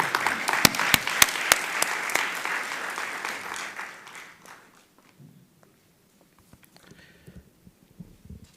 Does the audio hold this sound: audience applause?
yes